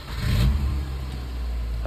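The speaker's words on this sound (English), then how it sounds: "That classic K series Rover engine start-up noise" A Rover K series car engine cranks and catches with a loud, close surge of revs, then settles into a steady mid-pitched idle, heard alone without talk.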